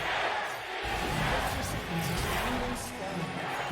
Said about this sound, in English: Crowd seems quite competitive right now.